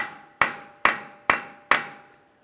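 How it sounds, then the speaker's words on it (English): Four sharp metallic strikes of a hammer on a punch against a CV axle stuck in the wheel bearing of a 2013-2015 Chevrolet Malibu, evenly spaced and ringing briefly after each blow, close and loud. "Continue on with a hammer and punch directly in the center here."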